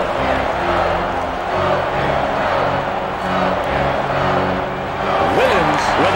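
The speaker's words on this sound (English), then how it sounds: "the crowd is trying to be a positive factor" Home crowd in the arena roars steadily at an NHL 2K7 video game hockey match between the Hurricanes and Oilers, a loud continuous wash of cheering with commentary running underneath and a brief rising whoop near the end.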